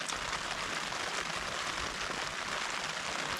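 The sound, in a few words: rain falling on a tent at a wild camp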